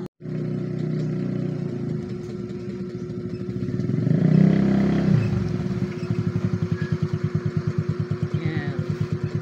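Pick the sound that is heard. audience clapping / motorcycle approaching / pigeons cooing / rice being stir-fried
motorcycle approaching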